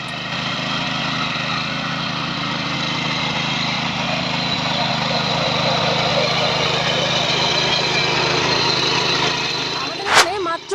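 A small soil-tilling machine's engine running steadily nearby for the whole stretch, a constant loud drone with no breaks, ending in a short knock.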